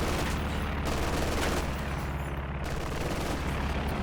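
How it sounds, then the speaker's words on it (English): Machine gun firing on rifle squads in Company of Heroes 2, a dense, loud continuous rattle of rapid shots with heavy booming low end filling the whole stretch. "And MG around the corner, shutting down these rifles."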